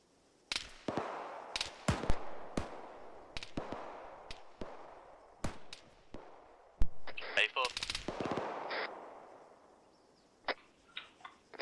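Arma 3 combat is under way, with artillery and small-arms gunfire in a military co-op squad session: scattered sharp shots and bursts, some close and loud, others more distant, with rolling booms midway and sparse isolated reports near the end.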